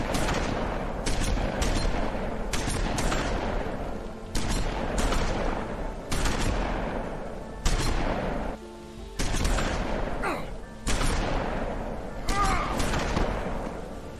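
Repeated shotgun blasts in The Wolf Among Us video game, sharp broadband bursts in quick irregular succession across the whole stretch, loud and close, with talk mixed in.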